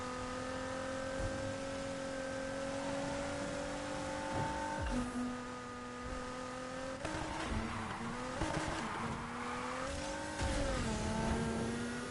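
A car in Need for Speed Heat making a handbrake turn, with a sustained engine drone, then tire squeal and skidding as the pitch shifts, loud and continuous.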